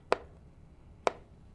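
A knife chops cooked chicken for shredded chicken tacos in a home kitchen, two sharp close knocks about a second apart against a quiet background.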